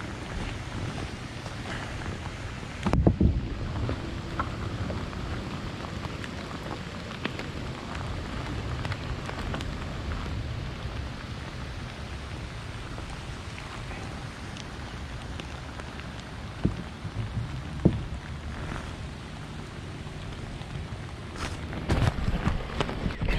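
Steady rain patters on lake water around a small fishing boat, a dense, even hiss running throughout, with a few closer knocks and bumps from the boat; no talking.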